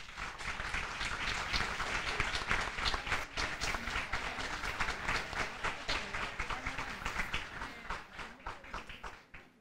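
An audience at a school literary event in the Dominican Republic gives sustained applause for a performance by students of the Lux Mundi educational community, with dense, steady clapping that fades out at the end.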